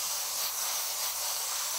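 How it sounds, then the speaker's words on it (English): Beef being stir-fried in a pan gives a continuous loud, dense sizzle, close and steady, with no voices. "I'm gonna go ahead and scrape it off the bottom of the pan and stir fry it all together"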